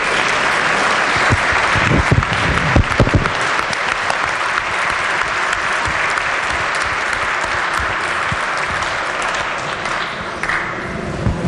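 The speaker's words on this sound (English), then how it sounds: "I'd ask this House to stand up and give them a round of applause for their hard efforts" Members of the West Virginia House of Delegates in their chamber in Charleston giving a standing round of applause: loud, continuous clapping from a large room, steady throughout with a few sharper claps early on.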